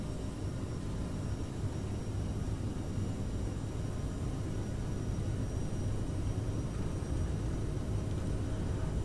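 An Aerosoft CRJ jet rolls down the runway on its takeoff run in Microsoft Flight Simulator 2020, a steady low broadband engine roar with faint high whine, constant and unbroken for about nine seconds.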